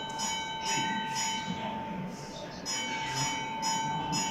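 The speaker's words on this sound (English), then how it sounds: "Can you hear that bell?" A railway signal box bell rings in evenly spaced strokes, mid-distance, over a steady hum; the strokes come in a regular pattern with a short pause between groups.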